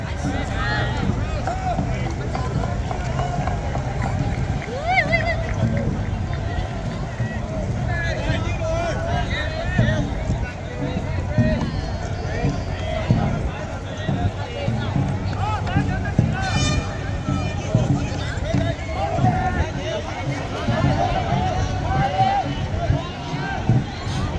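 Crowd noise at a dragon boat race in Hong Kong, a dense continuous babble of many voices and cheering across the whole stretch, with a person talking nearby over the din.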